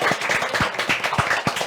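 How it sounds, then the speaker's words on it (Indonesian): Several people clapping during a break in a traditional dance studio session, quick uneven hand claps repeating at close range with a steady murmur of voices and room noise underneath. "Tepuk tangan dulu dong."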